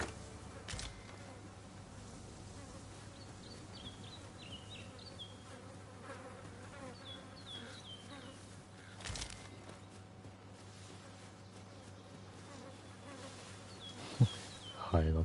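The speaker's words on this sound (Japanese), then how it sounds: "ハエが飛んでんの。" A fly buzzes in the video game Dragon's Dogma 2, a faint, steady drone under soft ambient game noise with a few brief chirps and clicks scattered through it.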